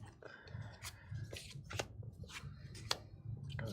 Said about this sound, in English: Gotta shuffle these better.